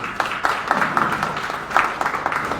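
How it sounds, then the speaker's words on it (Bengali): An audience at a book publication festival applauds a tenth-anniversary milestone with a sustained patter of many hands, moderately loud and slightly distant, with brief louder swells. "আমরা যারা অডিয়েন্সে আছি সবাই একটা জোরে করতালির মাধ্যমে শুভেচ্ছা এবং অভিনন্দন জানাই"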